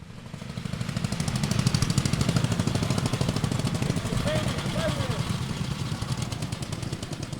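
Tractors in a tractor race, a loud continuous chugging engine roar with a rapid pulsing beat that swells and stays up as they accelerate, with a voice talking over it.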